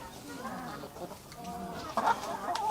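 Chickens cluck softly in the background at a village coop, a few short calls rising over a low outdoor hum.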